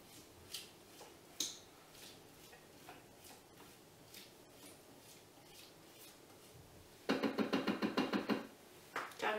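A kitchen machine chopping onion or shallot for a pea risotto, a short loud bout of rapid pulsing blade chops after scattered quiet knocks and ticks.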